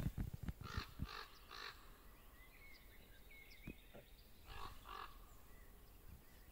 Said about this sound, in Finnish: Olikohan se nyt varis vai korppi?